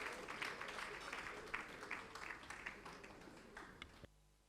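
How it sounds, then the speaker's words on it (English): Indoor audience applause at an elders' celebration and mentorship gathering, steady clapping from a crowd that tapers off and stops abruptly near the end, faint overall. "May we clap for Honorable Cecilia as she comes."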